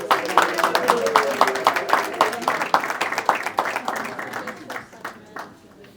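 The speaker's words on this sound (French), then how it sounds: "Allez, on va l'applaudir." At a graduation ceremony the audience applauds a graduate whose name has just been called, brisk scattered clapping that thins out and fades toward the end while a voice carries over it.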